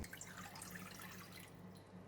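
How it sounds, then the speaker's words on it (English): Water is poured steadily into a cooking pot for boiling lotus roots, a continuous faint splashing and running flow lasting throughout. "Put all the water in the pot"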